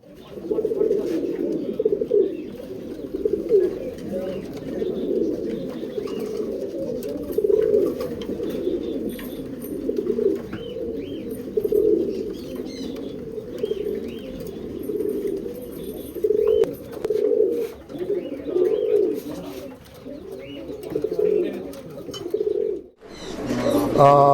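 Pigeons of the Roshan and related fancy lines coo steadily and close by in a loft, a continuous overlapping burble that runs the whole time with a brief rustle near the end.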